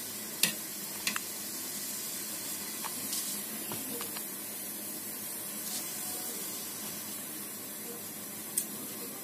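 Water lily stems sautéing with hilsa fish in a pan give a soft, steady sizzle with a few faint clicks of the spatula, quiet throughout.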